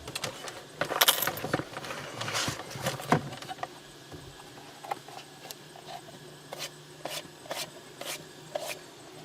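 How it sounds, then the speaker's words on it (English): A rubber boot is worked onto a car shifter during a shifter install, giving close rubbing, scraping and light clattering handling noises in irregular bursts, louder early on and then sparser clicks, with no talking. "and then we can put our rubber boot on."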